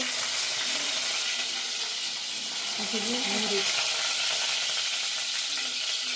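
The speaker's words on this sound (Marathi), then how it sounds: "आता आपल्याला कडीपत्त्याचे पाने टाकायचे" Curry leaves sizzle in hot ghee, a loud, steady frying hiss with a few crackling pops, and no voice.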